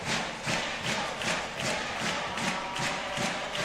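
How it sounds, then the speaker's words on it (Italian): Home fans of Braganza chant and cheer in a basketball arena, a dense roaring crowd with rhythmic pulses roughly every half second, steady and loud throughout. "i tifosi di casa a incitare i propri beniamini"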